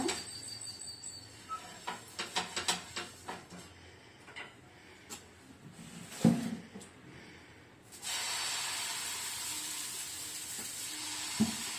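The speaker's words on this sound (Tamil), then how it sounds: "ஸ்டவ் ஆன் பண்ணிட்டு தோசை தவா வச்சுட்டோம். இது லேசா எண்ணெய் தடவிக்கோங்க." Oil is spread on a hot dosa tawa on a stove before making paruppu dosa. Soft clicks and scrapes come first, then a steady, faint frying hiss fills the last few seconds.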